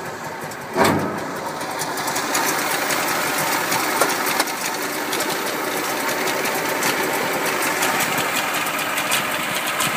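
A 1964 Saab 96 with an 841cc single-carb premix two-stroke engine idles rich with the choke closed, giving a steady buzzing, rattly drone close by after a brief louder knock near the start.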